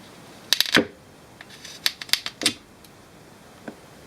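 A sharpened knife shaves the end grain of wood in a handful of sharp, crisp scraping cuts, some clustered and some spaced, set against quiet in between.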